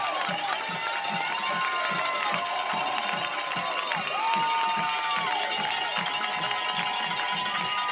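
A high school football crowd in the Navarro Panthers vs. Gonzales Apaches stands cheers as the Panthers run out, a broad distant roar with a steady pulsing beat of drums or stomping and whistles, under an announcer's voice.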